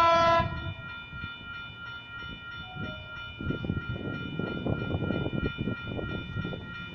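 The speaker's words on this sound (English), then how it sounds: "We have a North Sydney service arriving into platform number 1." A North Sydney train pulls into platform 1 at Mulgrave station, opening with a loud horn blast, then a steady rumble, squealing brakes and clattering wheels as the carriages roll in nearby.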